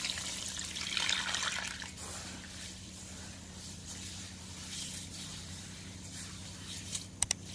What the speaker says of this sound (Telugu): నానబెడుతున్నాను నీళ్లు వేసి.